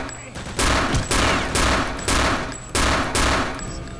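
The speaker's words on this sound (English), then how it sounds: "I should probably use a gun for this part instead of the fucking knife." Repeated bursts of automatic gunfire from a weapon in the Return to Castle Wolfenstein video game, five or six loud sustained volleys in quick succession with brief gaps between them.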